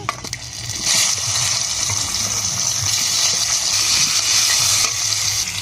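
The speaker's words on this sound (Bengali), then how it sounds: "আর একটু তেল দিচ্ছি, তেজপাতা ফোড়ন করছি, আলু কচুটা দিয়ে দিচ্ছি।" Bay leaf, potato and taro hit hot oil in a pan, giving a loud, steady sizzle and crackle of frying that stays strong throughout, with no talking.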